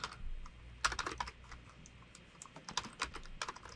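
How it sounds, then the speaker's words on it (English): Computer keyboard typing in an office setting, a quick burst of clicky keystrokes, a pause, then another short run of keys, close and fairly quiet with no talking. "So I'm going to type in small conference."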